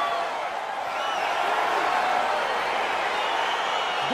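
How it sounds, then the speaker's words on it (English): Game crowd in EA Sports UFC 4 keeps up a steady, loud arena roar of cheering and murmuring as a fight gets underway, a continuous wash with no clear breaks. "crowd getting excited as this fight gets underway"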